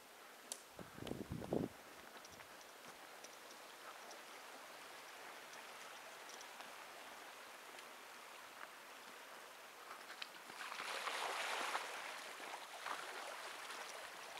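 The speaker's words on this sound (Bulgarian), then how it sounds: "А, ето е първата река." Stream water rushing steadily as a vehicle crosses a river on a mountain road, a continuous wash that swells louder near the end, with a brief thump early on.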